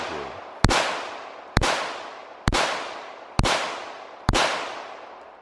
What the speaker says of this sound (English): We fire guns and blow stuff up.